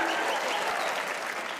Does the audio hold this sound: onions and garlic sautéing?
no